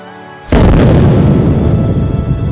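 A cannon shot in an artillery bombardment of a fort lands as one sudden, very loud boom after a low tonal hum, then rolls on as a long, heavy rumble that fades only slightly.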